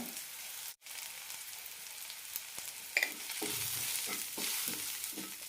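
Spice powders (chili, garam masala, roasted coriander, turmeric) fry in a pan for banana flower curry, a close steady sizzle with a brief break early on, then rhythmic scraping stir strokes over the hiss; no talking.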